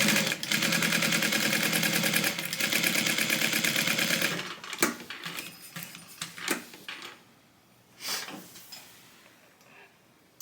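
A sewing machine runs steadily while stitching around the outside of a tote bag, giving a continuous mechanical whir for about four seconds. It stops and is followed by scattered clicks, fabric handling and quieter bumps.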